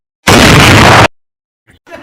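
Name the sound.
light bulb exploding in animation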